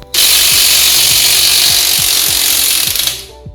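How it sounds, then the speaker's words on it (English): A 24mm rear axle nut is worked loose on a Honda Hornet motorcycle with a loud, steady power tool buzz that runs for about three seconds with faint rapid knocking underneath, then cuts off. "So there is a 24mm nut, the axle nut, and we are going to remove that nut now."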